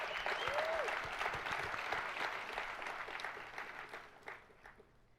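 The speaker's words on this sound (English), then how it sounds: "So let's give them another round of applause" Large audience at a KubeCon keynote giving a round of applause, a broad crowd clapping that starts full and slowly tapers off, with scattered final claps and a brief vocal whoop early on.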